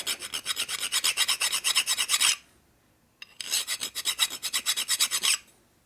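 A hand file strokes back and forth across the flat of a burred part on a 1972 Harley-Davidson 1000cc Ironhead Sportster, producing two close bursts of rapid, rasping scrapes separated by a short pause.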